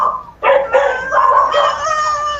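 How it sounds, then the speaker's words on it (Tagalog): A dog gives a short run of close, loud, high yips and whining howls lasting a couple of seconds, with no talking over it. "Ang aso mo"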